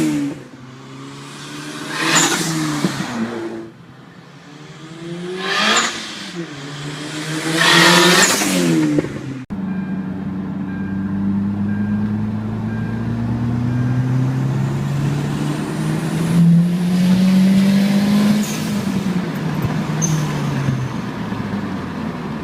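Turbocharged Hyundai Genesis racing at a track, engine revving hard through three rising pulls at close range before settling into a long steady drone with a climbing, then falling pitch.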